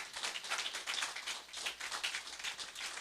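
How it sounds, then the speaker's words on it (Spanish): A church congregation claps during a service in a steady, moderately distant burst of applause lasting the whole moment, with no talking over it. "Yo quiero que le dé un aplauso a Papá Dios."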